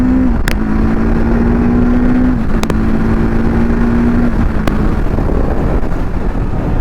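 A TVS Apache RTR 310 motorcycle engine drones loudly and steadily under acceleration, its pitch dropping briefly at a clutchless quick-shifter gear change before holding steady again, with a couple of short clicks.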